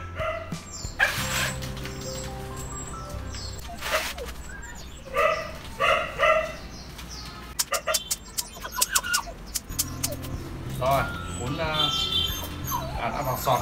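Phu Quoc dog puppy yipping and whimpering while being placed into a woven basket, with short barks and rustling close by, and people talking over much of it.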